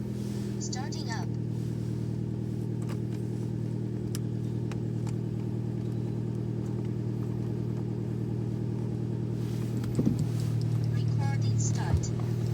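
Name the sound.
Alfa Romeo Mito car engine starting and running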